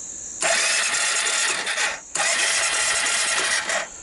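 A Suzuki KingQuad ATV engine cranks with its spark plug removed, giving two steady whirring bursts of the starter of about one and a half seconds each, separated by a brief pause, close and fairly loud.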